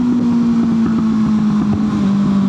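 A motorcycle engine runs steadily nearby, a loud continuous droning hum with a slight rough pulsing texture and no talking.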